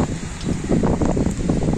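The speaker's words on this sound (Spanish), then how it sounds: "se puede apreciar un poquito más la lluvia" Steady rain falls outdoors with gusting wind in front of a church, a dense broadband wash of drops and wind noise at moderate level throughout, with no voices.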